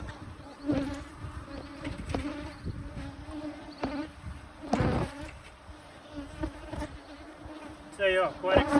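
Honey bees buzz around a hive in an apiary, a continuous close drone with individual bees flying past the microphone, and a few soft bumps and handling noises.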